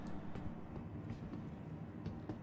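Steady rumbling of a moving tram ride in an online video game, a continuous low rolling drone with faint periodic rail clicks, fairly loud with no talk over it.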